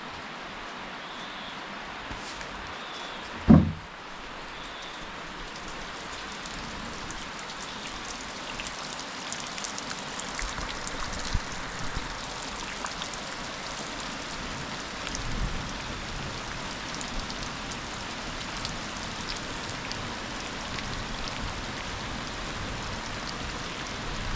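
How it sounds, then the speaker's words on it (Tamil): Heavy rain pours steadily onto a traditional thatched-roof house at night, a dense, even hiss that runs unbroken from start to finish, with one sharp thump near the start. "மழை வந்துச்சு அந்த சவுண்டை நீங்கள் கேட்டுட்டு வாங்க"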